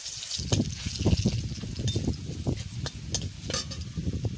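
Cumin seeds and garlic crackle and sizzle in hot oil in a home kitchen pan, with irregular pops and a steady frying hiss throughout.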